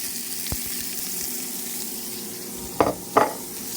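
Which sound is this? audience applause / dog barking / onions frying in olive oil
onions frying in olive oil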